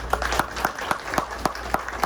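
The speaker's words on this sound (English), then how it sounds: "Final applause for each other" A lecture audience gives a final round of applause at the end of a science talk on healthy aging. The clapping is steady and moderately loud, with a few sharper individual claps standing out over a low hum.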